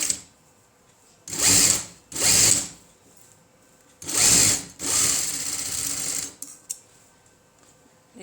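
A sewing machine stitches a blouse side seam in four short bursts of loud, close motor whine, the last run longest, separated by quiet pauses with faint handling clicks.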